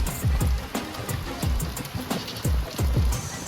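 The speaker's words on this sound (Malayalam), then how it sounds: "മഴയത്ത് കിടക്കാൻ പറ്റിയ സമയം" Rain falls outdoors by a pool, pattering and splashing close by in uneven bursts with a steady wet hiss underneath.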